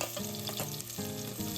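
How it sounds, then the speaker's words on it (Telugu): Onions fry in hot oil in a kadai with a continuous crackling sizzle and a few stirring sounds, heard over a bed of background music. "ఆయిల్ వేగాక అందులో ఉల్లిగడ్డ వేయాలి"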